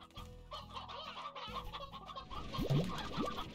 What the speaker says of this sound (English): I do love all the natural chickens that spawn up here.